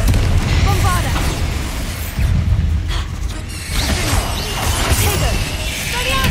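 Spell explosions and combat effects in the video game Hogwarts Legacy, booming bursts and crashes with mechanical creaks over a rumbling background, loud and repeated across the fight.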